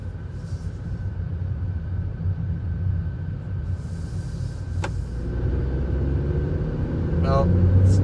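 A 2025 Kia K4 GT Line car on a drive, with a steady low engine and road rumble from inside the cabin that grows slightly louder toward the end, plus a few faint clicks.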